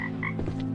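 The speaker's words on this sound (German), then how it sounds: "Da ist ein Frosch." Frog croaking in a swamp video game, two short throaty croaks in quick succession over a steady low background hum.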